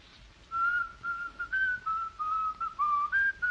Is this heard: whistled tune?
yes